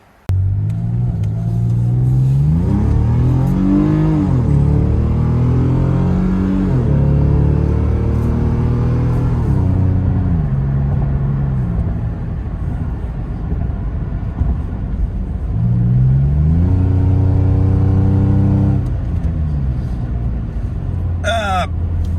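Lexus IS250 engine with modified exhaust pipes revving repeatedly: loud, close, throaty rumble with rising and falling pitch sweeps, several blips and sustained pulls, droning steadily throughout.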